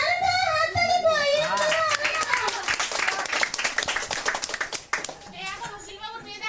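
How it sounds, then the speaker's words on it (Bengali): Children clap at a program in an old age home, a steady patter of many hands that swells and thins over several seconds, with a voice and other talk mixed in. "দারুণ তো, হাততালি কই?"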